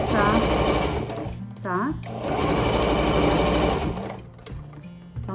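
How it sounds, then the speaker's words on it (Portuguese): Sewing machine running a second reinforcing seam over piping on a pouch, loud continuous stitching in bursts with brief pauses, close, with someone talking over it. "eu tô agora fazendo a segunda costura para reforçar"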